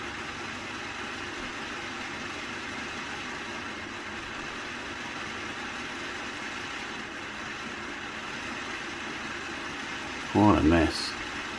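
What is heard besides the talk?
Hornby B12 model locomotive motor speeding up and slowing down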